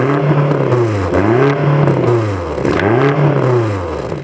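A BMW XM with quad exhaust pipes, its engine rising and falling through several loud rev sweeps heard up close, the tone climbing and dropping in repeated waves.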